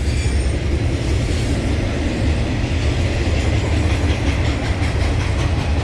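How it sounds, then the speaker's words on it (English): A long freight train rumbles past on the main north-south line between Mexico, San Antonio and Dallas in Austin, Texas, a loud steady roar of cars with a rhythmic clickety-clack of wheels, close by and without talk. "This is the main north-south train track that comes up from Mexico through San Antonio, heads up towards Dallas."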